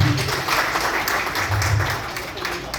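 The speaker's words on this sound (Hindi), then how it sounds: "मैं एक बार आप सबके लिए ताली चाहता हूँ।" A crowd at a training program in a Jammu hotel applauds everyone present, sustained group clapping at a fairly loud, steady level with faint voices mixed in.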